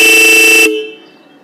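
A loud, sustained Bullet motorcycle horn blares for under a second, then cuts off, leaving a fading ring and faint background hum.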